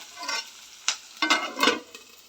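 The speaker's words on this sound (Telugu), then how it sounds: "సిమ్లో పెట్టి వేయించాలి ఫ్రెండ్. ఆనియన్ బాగా ఫ్రై అవ్వాలి." Onions being stirred and fried in a pan for egg fried rice, with short scraping strokes over a soft sizzle, close and moderately loud, no talking.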